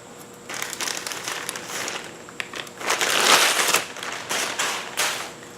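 Plastic bag holding Ram 2500 trackbar bushings being handled up close, loud crinkling and crackling in uneven bursts that swell toward the middle, with no talk.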